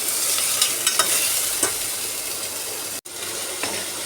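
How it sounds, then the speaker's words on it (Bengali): Lentils and green chilli fry in a pan while being stirred, a steady close sizzle broken by scraping strokes of the spoon and a brief cut near the end. "এগুলো এবার একটু হালকা করে নাড়াচাড়া করতে থাকি।"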